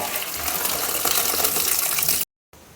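Boiled pasta water pours out of a pot in a steady close gush of draining liquid, then cuts off abruptly.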